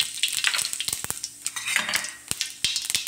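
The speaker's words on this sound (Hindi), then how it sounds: "मैं डाल दे रही हूँ आधी चम्मच हींग और जीरा," Asafoetida and cumin sizzle in hot mustard oil in a kadai, a dense crackling hiss close up, with a spoon clinking and scraping against the pan in quick taps.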